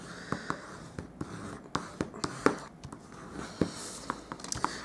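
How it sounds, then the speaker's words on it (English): A bone folder burnishes a pre-scored line on cardstock for a handmade card: short close rubbing strokes and light taps in an irregular rhythm, with no talking. "I'll just quickly burnish that score line with my bone folder."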